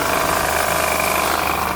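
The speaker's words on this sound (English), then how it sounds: "I'm just going to turn the engine off." Engine of a 1999 Mercedes V-Class W638 van running steadily at close range, a dense, even mechanical clatter and hum with no voices.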